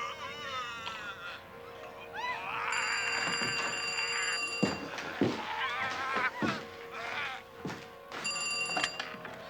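A telephone ringing indoors in a 1993 drama film, with repeated electronic trills in short bursts over background noise, thumps and some talk.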